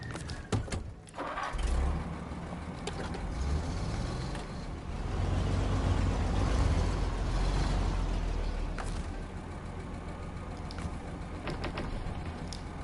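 A truck engine idling and revving in SnowRunner, a low rumbling drone that swells through the middle and settles back to a steady running hum.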